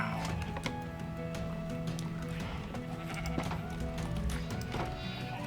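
Sheep bleating in the Minecraft video game, repeated short bleats over a busy backdrop of other animal sounds and game noise, moderately faint, no talk.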